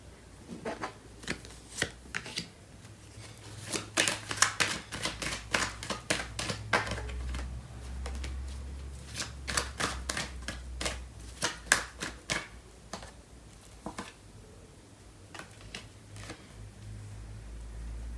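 Tarot cards are shuffled by hand, giving long runs of quick, close riffling and tapping clicks that come in bursts with short pauses between them.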